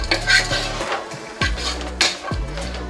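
A spoon scrapes and clanks against a pan while cabbage stir fry cooks in oil, with several distinct metallic strokes and light sizzling between them, close and fairly loud.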